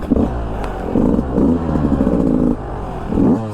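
A 2022 Beta 200 RR two-stroke dirt bike engine revs hard on tight single-track through trees, rising and falling in a raspy, buzzing pitch with repeated throttle blips, close and loud.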